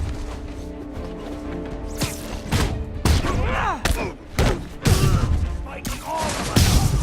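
Enemy gunfire in the Spider-Man PS4 video game, loud bursts and sharp impacts in repeated clusters mixed with thuds and crashes of a busy fight, with game voices shouting in between.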